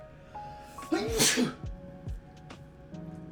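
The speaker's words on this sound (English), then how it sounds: "Hold on, I gotta sneeze." A single sharp sneeze bursts out midway, loud and close, with faint background noise and a few soft clicks afterward.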